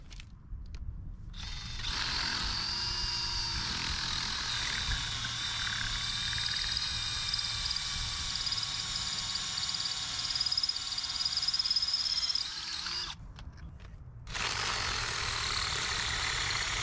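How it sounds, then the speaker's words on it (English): A drill bores out holes in a stone grave marker to deepen them for fiberglass rods, a steady high grinding whine running for about eleven seconds, briefly stopping, then starting again, close and loud with no talk. "we're going to drill out the holes to make them deeper for the fiberglass rods that we're going to use"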